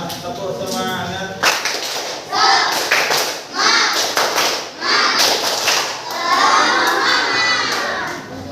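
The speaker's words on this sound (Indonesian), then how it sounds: "Lanjut, tepuk semangat, tepuk semangat." Schoolchildren in a classroom perform the 'tepuk semangat' class clap, a loud rhythmic sequence of group claps and shouted chants, with a teacher's voice briefly at the start.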